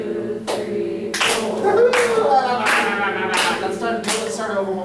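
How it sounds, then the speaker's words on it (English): A sight-singing class claps together in rhythm, several sharp group claps spaced on the beats, close and fairly loud, with voices counting faintly underneath. "So we only have to clap on beat 1 and beat 4 of measure 1"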